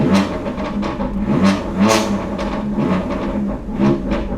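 A BMW F82 M4 Competition with a Valvetronic exhaust revs in repeated loud bursts, heard from inside the car, throaty and rumbling, up close with some rattling underneath.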